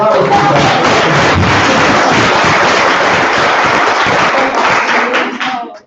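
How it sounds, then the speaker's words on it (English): A room of people at a young people's themed area committee meeting claps in a loud, sustained round of applause that fills the space before fading out at the end. "I think the room does need another round of applause."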